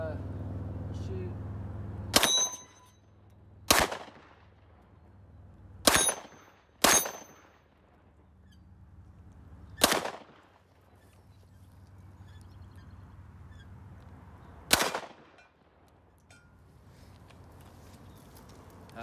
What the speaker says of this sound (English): That's a fun gun to shoot.